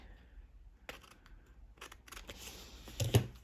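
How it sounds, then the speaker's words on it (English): Scissors trim the edges of paper for a December Daily journal page: a few crisp, close snips spaced irregularly over quiet room background, with no voices. "So I just trim it kind of like that, just the edges a little bit to get some of that off."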